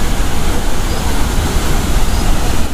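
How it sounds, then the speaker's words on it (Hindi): Powerful water rushing at Aharbal waterfall, a dense, steady roar heard loud and close with no break and no voices. "ये देखो जी कितना तेज़ पानी आ रहा है"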